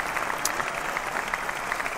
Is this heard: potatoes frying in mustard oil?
no